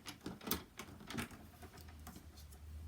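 Two pieces of card paper are cut at once for a fancy fold card, giving a few faint, quick crisp snips close by in a quiet room.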